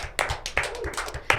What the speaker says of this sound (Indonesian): Tepuk tangan dong panitia semuanya.